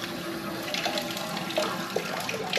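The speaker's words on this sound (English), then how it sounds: "we're hearing it hiss, and we're just going to wait until we get water out of that" Water rushing and hissing out of an opened valve on a home boiler under repair, a steady broadband gush with small splashes and gurgles, close and continuous throughout.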